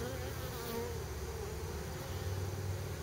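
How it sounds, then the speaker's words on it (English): A dense, continuous buzz of many honeybees, some newly hatching, humming close by in an opened hive, steady and unbroken throughout. "these are bees that are hatching. Just being born."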